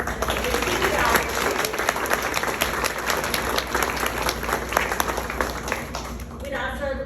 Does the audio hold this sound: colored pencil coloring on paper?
no